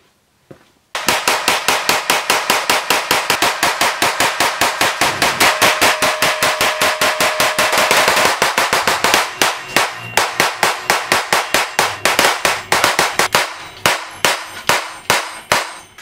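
A CZ Scorpion EVO 3 submachine gun is fired in rapid, evenly spaced shots for about twelve seconds, loud and close. Toward the end the rhythm breaks into short bursts and single shots.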